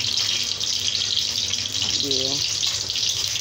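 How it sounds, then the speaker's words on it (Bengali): Dried red chillies and panch phoron fry in hot oil with a continuous bright sizzle close by, while someone speaks briefly over it. "শুকনো লঙ্কাটা ভেজে নিচ্ছি ভালো করে।"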